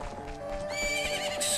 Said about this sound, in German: Das Pferd heißt Epona.